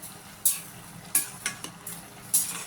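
A spoon scraping and stirring food in a pan, a handful of distinct crisp scrapes over a quiet low background, close and fairly soft, no voices.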